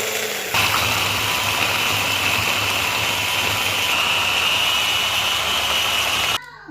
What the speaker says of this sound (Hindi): अब हम इसको अच्छी तरह से इसको बंद करके इसको ब्लेंड करेंगे।